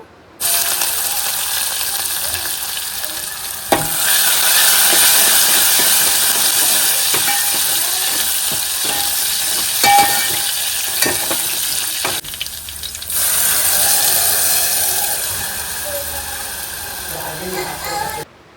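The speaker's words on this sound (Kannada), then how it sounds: "ಕರ್ಬೇವಿನ ಸೊಪ್ಪು ಹಾಗೂ ಬೆಳ್ಳುಳ್ಳಿನ ಹಾಕಿ ಫ್ರೈ ಮಾಡ್ಕೋಬೇಕು" Curry leaves and garlic frying in hot oil for a tempering, a loud continuous sizzle and crackle up close, with scraping and stirring clicks, a brief quieter gap midway and faint voices.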